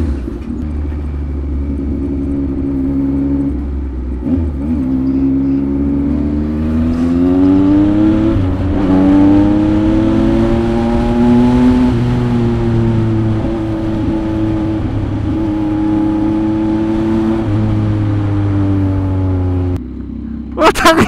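Kawasaki ZX-25R and Yamaha MT-09 motorcycles on a leisure ride, engine tone rising and falling steadily as the throttle opens, loud and close throughout with wind rumble.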